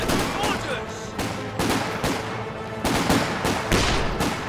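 Gunfire in the Company of Heroes 2 strategy game comes as repeated bursts of sharp shots and thuds, with machine-gun rattles and heavier bangs spaced every second or so, loud and continuous.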